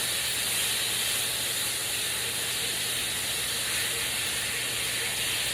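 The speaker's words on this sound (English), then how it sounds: "Now, that's deglazing the pan, okay? Give that a little stir." Liquid deglazing a hot cast pan after searing a bone-in ribeye, giving a steady, even hiss with faint mechanical clicking as it is stirred, no voices.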